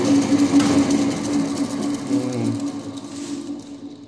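Homemade metal lathe turned down to a lower speed, giving a steady close humming drone with a faint mechanical whir that eases slightly in level toward the end.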